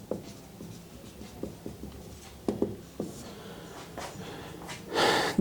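Chalk or marker taps and scratches on a board during a university lecture, a series of short, sparse strokes at moderate level with quiet breathing between them.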